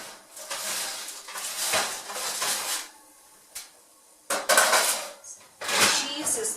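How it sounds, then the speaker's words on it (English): Toasted pita coming out of a broiler, with metal pans and trays clattering and scraping in several close, loud bursts separated by a brief quieter pause. "we're going to take the pita out of the broiler"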